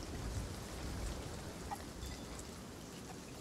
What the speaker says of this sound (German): Hä, aber es regnet doch.